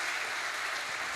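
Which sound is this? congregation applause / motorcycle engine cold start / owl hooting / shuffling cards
congregation applause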